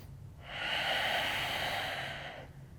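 A long, steady inhale during a yoga flow, rising smoothly over about two seconds and fading out, close to the microphone and alone against a faint low hum.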